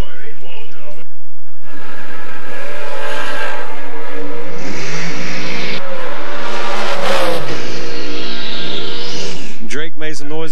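A supercharged drag race car with a big blower on the intake launches in the left lane at a drag strip event, a loud rising roar heard under an announcer talking continuously over the PA.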